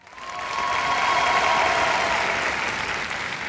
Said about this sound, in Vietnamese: Một tràng pháo tay cho Yiyi